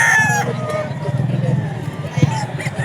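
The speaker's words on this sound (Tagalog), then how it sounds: "Puro manok niya yan." Gamefowl roosters and bullstags crow at the start, then a low murmur of people talking and background hubbub carries on beneath faint fowl calls.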